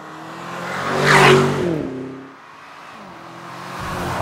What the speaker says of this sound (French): Le V8 est extraordinaire et il fait un très joli son.